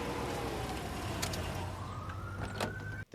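Police sirens wail steadily in the distance, rising and falling over traffic rumble and background noise, with no voices.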